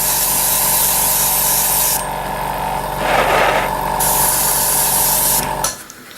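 A spray can or airbrush lays a light primer coat onto a model, giving a loud continuous hiss with brief shifts in tone before it cuts off near the end.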